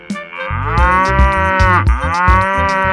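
A cow moos loudly and up close in one long, drawn-out, deep, resonant call that fills the whole stretch with no talk over it.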